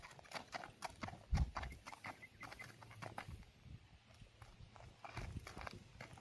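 A bay gelding's hooves clip-clop at a slow walking pace on a hard surface, fairly close, with a soft snort near the start and faint background noise.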